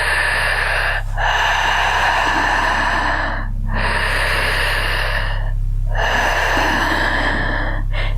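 Long, forceful exhalations pushed out through the mouth in a breathing-technique demonstration, three or four broad airy breaths with short pauses between, close and steady over a constant low hum.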